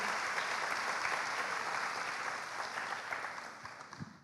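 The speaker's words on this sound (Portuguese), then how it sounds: "Pessoal, uma salva de palmas, né, para o nosso visitante." A church congregation applauds a first-time visitor during a service, a steady round of clapping that gradually thins into a few sharper individual claps at the end.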